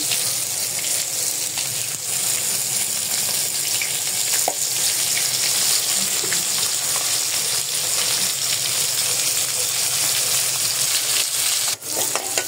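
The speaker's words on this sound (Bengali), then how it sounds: "এখানে আমি পেঁয়াজগুলো ভাজি করে নিতেছি।" Onions sizzle loudly and steadily in oil left over from frying katla fish, a dense continuous crackle with occasional stirring scrapes, close and without talk.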